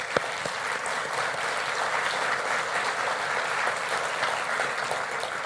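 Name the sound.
applause for the city's financial staff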